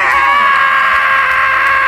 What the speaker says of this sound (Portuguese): Bora gritar debaixo da ponte!